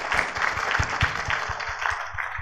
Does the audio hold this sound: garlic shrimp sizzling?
no